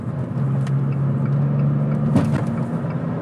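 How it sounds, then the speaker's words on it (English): A minivan races past on the road, heard from inside a moving car as a steady engine and tyre rumble with a droning pass and a brief thump partway through. "we've got the minivan that's racing"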